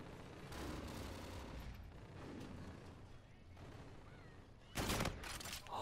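Gunfire from the multiplayer shooter Call of Duty: Infinite Warfare, with sustained shooting and a sharp, louder burst near the end, heard under speech.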